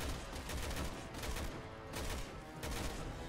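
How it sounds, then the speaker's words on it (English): Rapid gunfire in the Resident Evil 6 video game, a dense burst of shots in repeated volleys that stay loud and continuous with no talk. "There, I'm shooting him."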